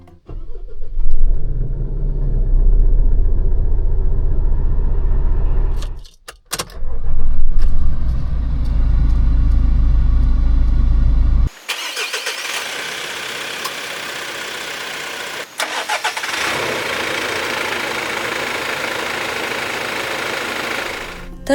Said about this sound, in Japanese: 次はエンジン始動音です